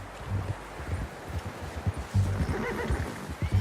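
A horse in the video game Red Dead Redemption 2 whinnies close by, with rough bursts and hoof clops over a low game-world rumble.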